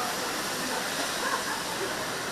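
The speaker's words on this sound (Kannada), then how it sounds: "ಯಾವ ಪ್ರಮಾಣದಲ್ಲಿ ನೀರು ಚಿಮ್ತಾ ಇದೆ ನೋಡಿ" Rainwater gushes out of a manhole at Corporation Circle during Cyclone Fengal, a dense, unbroken roar of rushing water that stays loud and steady throughout.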